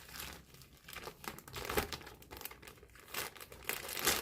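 A thick plastic packaging bag with a second bag inside is handled, giving close, continuous crinkling and rustling in irregular bursts, with no talking.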